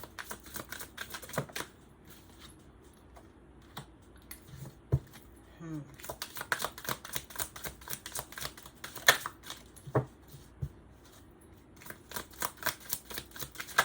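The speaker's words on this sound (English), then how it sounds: "Thanks for bearing with me while I shuffle out these cards." Tarot cards are shuffled with soft rapid clicks and riffling flutters, coming in irregular bursts over several seconds, quiet and close, with no voices.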